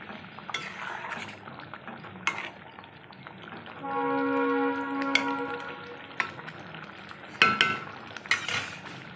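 Whole pointed gourds tipped into boiling gravy in a pan and stirred, a burst of bubbling and scraping clinks in the middle with intermittent utensil knocks around it, no talk.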